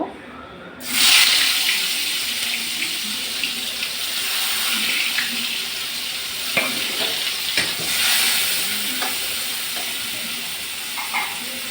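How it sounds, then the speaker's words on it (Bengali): Onions drop into hot oil in a pan and fry while being stirred, a loud rushing sizzle that bursts up at the start and carries on steadily with occasional scrapes and clicks, no speech. "এখন আমি পেঁয়াজ দিয়ে দিব"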